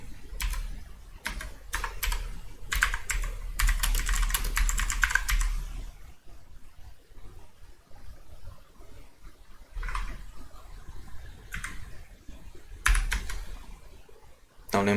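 Keys clatter on a computer keyboard while entering a formula in an Excel spreadsheet, coming in quick bursts of close, crisp typing with short pauses between them and no talking.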